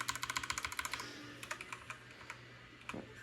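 Typing on a new computer keyboard with double-shot keycaps: a quick, close run of crisp keystrokes, then slower scattered presses with pauses between them, with no one talking.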